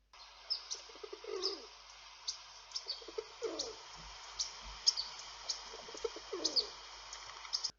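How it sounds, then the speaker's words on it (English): Soft, slow feral pigeon coos recur every second or so at moderate distance, with faint high chirps and ticks scattered above them. "Feral pigeons only make a slow, quiet cooing noise"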